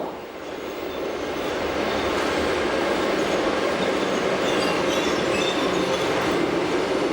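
The Glacier Express narrow-gauge train runs through Chur station with a steady rolling rumble and rail noise that swells slightly and holds, with faint squeal over the top.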